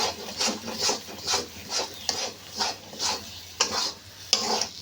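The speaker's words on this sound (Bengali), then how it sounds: "এইভাবে বেশ ভালো করে নাড়তে হবে" Mashed taro leaf paste is worked in a pan with a spatula, each stroke making a rhythmic scraping rub roughly twice a second, close and moderately loud over a soft sizzle, with no talking.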